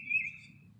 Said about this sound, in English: The birds are singing, and so are we.